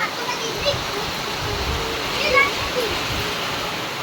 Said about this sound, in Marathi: जबरदस्त पाऊस चालू आहे